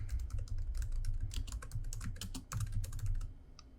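A plugin name is typed on a computer keyboard as a quick, steady run of close, crisp keystrokes with small pauses, nobody talking.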